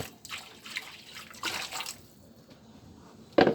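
Water is poured into a cooking pot for pancit bihon, giving a steady close splashing wash that swells in waves, with a sharp clatter near the end.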